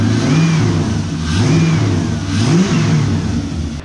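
A drift car's engine, running again after a header fix, revs loudly up and down in repeated rising and falling swells, close to the microphone with no talking.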